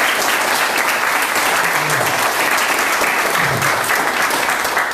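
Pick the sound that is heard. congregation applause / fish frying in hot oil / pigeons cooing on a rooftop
congregation applause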